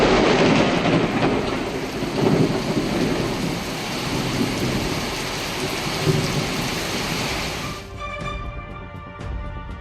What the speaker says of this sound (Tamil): கல்லிடைக்குறிச்சி சுற்றுவட்டார பகுதிகளில் பலத்த மின்னல், இடியுடன் கனமழை பெய்தது.